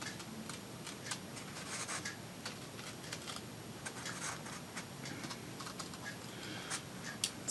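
Scissors cutting paper for a travel-themed collage, a quiet steady run of small snips and rustles close by with no talking.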